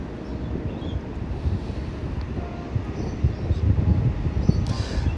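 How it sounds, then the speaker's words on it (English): Steady wind buffets the microphone at a DF65 model yacht race in a southeast breeze of about 10 km/h, a continuous low rumble with faint water sounds in the background. "The wind is southeast, around about 10 kilometres an hour."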